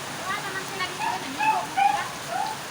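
Steady rain hisses on surfaces nearby, a constant wash of sound, with faint chirpy bird-like tones poking through.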